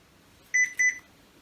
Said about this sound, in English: And I have no idea why that just beeped at me.